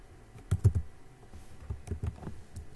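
Keystrokes on a computer keyboard while entering form validation code, a few scattered taps then a short cluster of clicks, close and fairly quiet with no talking.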